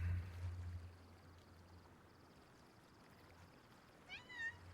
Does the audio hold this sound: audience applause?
no